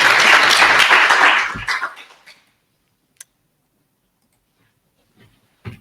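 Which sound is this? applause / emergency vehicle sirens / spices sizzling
applause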